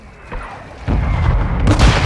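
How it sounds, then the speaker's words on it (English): Mortar strike in Call of Duty Modern Warfare II: heavy, booming explosions land close, a deep blast swelling at about one second and another sharp crash near the end over rumbling low noise. "Now a mortar strike is inbound."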